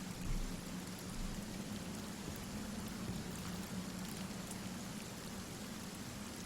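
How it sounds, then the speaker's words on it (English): Rain conjured by a rain scroll in the video game Divinity: Original Sin, a steady, even patter of falling drops, soft and continuous, with no voices. "Rain Scroll. Make it rain."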